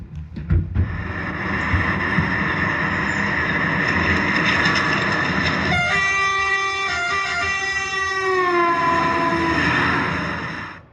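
A train passes close by at a railroad crossing, a loud steady roar and rumble of wheels on rail, with a horn sounding in sustained, shifting tones through the second half.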